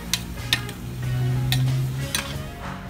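A spoon stirs boiled mung beans with chicken and jackfruit in a pot, wet scraping and a few sharp clinks against the metal over a low steady hum.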